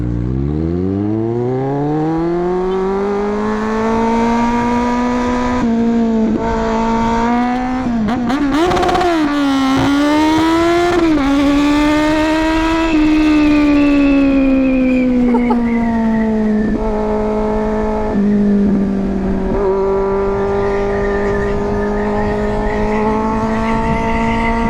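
A 2023 Kawasaki Z900 motorcycle engine revving loud and close, its pitch climbing, dipping and climbing again as it is pushed up to the rev limiter, sustained for the whole stretch.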